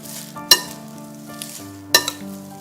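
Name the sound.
mixing seaweed pasta with lemon juice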